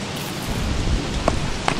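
Steady rain pours down in the video game Don't Starve, a dense, even hiss with a few louder drips standing out near the end. No one talks over it.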